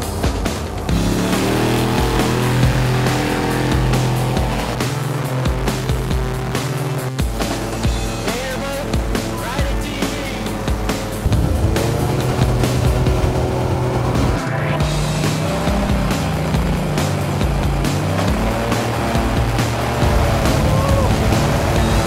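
A gator tour boat engine drones continuously on the water with shifting pitch and a loud, steady roar, revving up noticeably in the second half.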